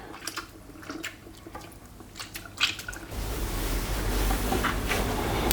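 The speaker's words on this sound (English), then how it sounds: "You can see I'm just rinsing the conditioner off, not washing it off like I did with the shampoo." Water runs over long hair as conditioner is rinsed out, starting with soft wet squishes and drips, then turning into a steadier, louder rush of flowing water in the second half.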